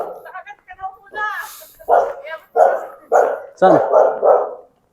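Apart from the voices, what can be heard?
dog barking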